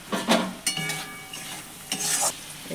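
Whole tomatoes drop into a hot pan of masala, setting off bursts of loud sizzling and frying with stirring scrapes, the hiss swelling and fading in several waves.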